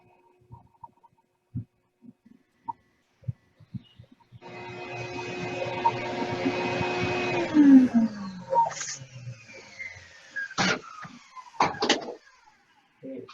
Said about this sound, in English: I have this hooked up to my shop vac and I have a remote control to turn it